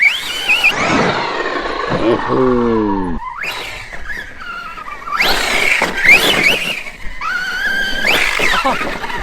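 A Redcat Kaiju 6S RC car wheels down over tree roots, its electric drive whining and squealing loudly in repeated rising bursts, with a voice heard at moments.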